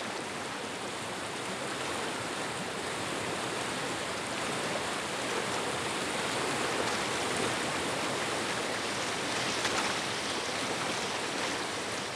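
Bubbling bath water where a large herbivore relaxes, a dense continuous rushing and churning wash, steady and fairly loud throughout with no voices.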